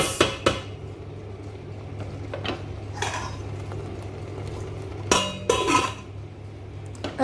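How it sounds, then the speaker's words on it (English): A metal lid is set on a cooking pot while barbecue chicken sizzles in an oven, giving several sharp clanks and clinks, with the last ones near the end, over a low steady hum. "So I'll just put the lid on the pot."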